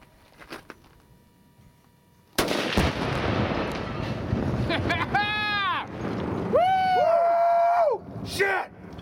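Two pounds of tannerite detonate outdoors and destroy a 22-inch computer monitor, one sudden loud blast followed by rolling rumble and debris noise, then excited shouting voices.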